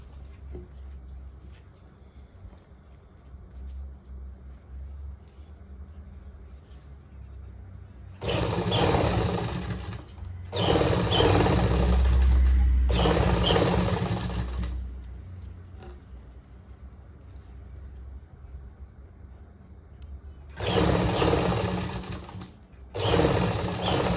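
A sewing machine stitches double lace onto a dupatta, whirring loudly in five separate runs of about two seconds each, with quiet pauses in between.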